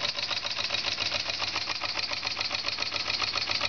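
A very large, powerful model steam engine with a 7/8 inch bore and 1.5 inch stroke running smoothly, giving a steady rapid chuffing and mechanical clatter at an even pace, heard close with no talking.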